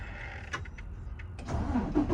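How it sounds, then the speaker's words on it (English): A truck engine is started from inside the cab: a few short clicks and cranking bursts, then a low, steady idle rumble builds up near the mic, with no talking. "I got to cut the truck back on."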